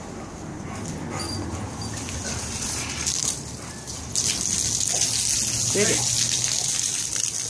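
A dog being hosed down with water outdoors, a steady spray of running water throughout, with a person speaking over it and a faint whimper.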